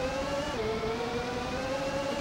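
An F1 race car engine in the Super Famicom game Exhaust Heat holds a steady synthesized buzzing drone with a slight pitch dip and recovery, continuous and alone, without talking.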